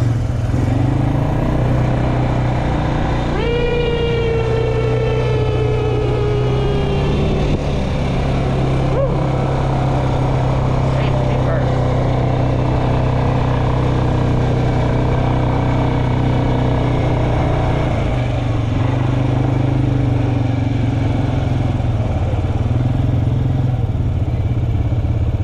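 An ATV engine drones loudly and continuously while riding over sand dunes at Worimi Regional Park, the pitch rising and falling with throttle changes, close to the microphone and without speech.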